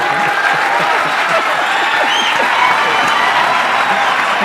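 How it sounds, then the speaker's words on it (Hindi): An audience at a live meet-and-greet event claps, a dense steady wash of applause that fills the room without a break, with some voices mixed in. "जो अभी तालियां बजा रहे थे"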